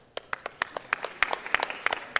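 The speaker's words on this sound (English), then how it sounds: "Let's give them all a round of applause." Scattered applause from a small audience at a city council meeting, individual claps distinct and irregular, building slightly in density before tapering.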